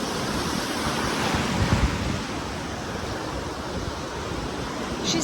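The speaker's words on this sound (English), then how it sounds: "There's big waves here today, and Sky loves it." Big ocean waves break on Panama City Beach in a steady, loud roar of surf and wash that swells slightly midway, with wind rumble underneath.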